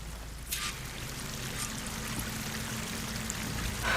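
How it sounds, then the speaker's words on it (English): A waterfall in the video game Horizon Forbidden West gives a quiet, continuous rushing and pouring wash of water, steady and distant-sounding, with a few faint splashy bursts and no speech. "That waterfall must be coming from somewhere."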